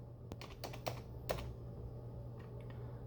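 Someone types on a computer keyboard, with scattered individual key clicks and a few quick clusters over a low steady hum, close and fairly quiet.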